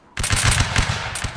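A musket volley fired by a line of soldiers in a Napoleonic Wars game: a sudden loud burst of overlapping shots that crackles on in a rapid ragged string, close and dense.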